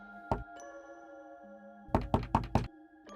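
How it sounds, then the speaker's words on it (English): Knuckles rap on a door: one single knock, a long pause, then four quick knocks in a row, close and sharp, followed by one more faint tap. "It's one knock to tell new people, and then long pause, and then 4 knocks to tell that there's 4 of us."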